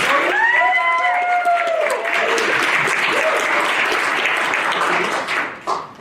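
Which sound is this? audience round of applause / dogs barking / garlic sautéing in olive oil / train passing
audience round of applause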